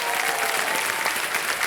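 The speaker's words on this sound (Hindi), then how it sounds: "तालियां बज जाए इनके लिए" A brief, steady wash of clapping from the Kaun Banega Crorepati studio audience, many hands together, loud and sustained without a break.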